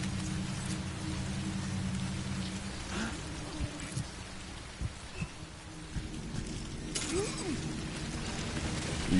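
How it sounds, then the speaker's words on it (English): Steady rain pours in the video game Death Stranding, a dense, continuous hiss of drops on surfaces with scattered heavier splats and soft thuds throughout. "I guess we'll just sit here and chit-chat till the rain stops"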